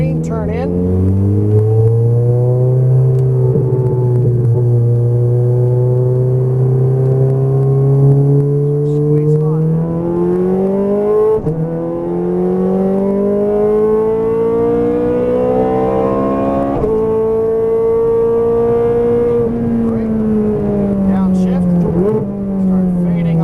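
A Ferrari F430 Scuderia accelerates around a race track, its engine note climbing repeatedly through the gears with sharp drops at each upshift, loud and close, while an instructor's voice talks at times.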